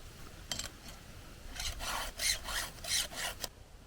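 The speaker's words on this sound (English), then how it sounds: "sharpening the chainsaw." A file rasps back and forth along a chainsaw chain as it is sharpened: several quick strokes at first, then a run of longer, louder rhythmic passes, close up with no talking.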